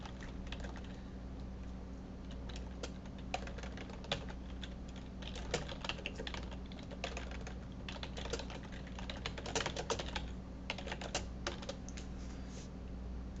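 Steady clatter of typing on a computer keyboard as a comment is entered, a quick run of close key clicks with brief pauses over a low constant hum.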